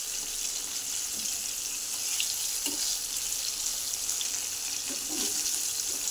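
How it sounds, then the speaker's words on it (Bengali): Four pieces of fish fry in a pan, a loud continuous hissing sizzle that stays even throughout, with faint small pops and no voices. "মাছ ভাজা হচ্ছে"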